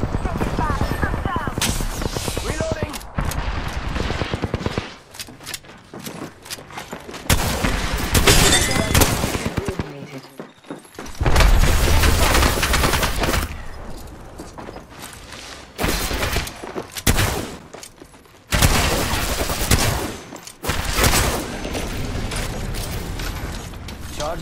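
Apex Legends match gunfire in an Epic-only shotgun challenge, heavy loud bursts of shots and impacts in clusters across the stretch, with brief quieter gaps, dense and close, under speech.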